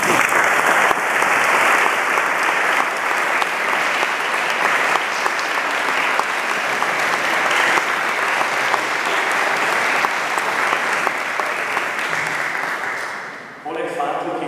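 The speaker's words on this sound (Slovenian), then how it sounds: "Prosim, en aplavz." Sustained applause from an audience at a thank-you segment of a parish dance evening in Brezovica, a broad even roar of many hands that tapers off near the end into speech.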